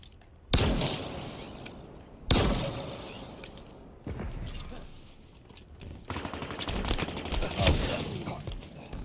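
Needler weapon fire in Halo Infinite multiplayer: several loud bursts of rapid crystalline shots and shattering impacts arrive in separate volleys, the last longer and denser, with faint speech underneath.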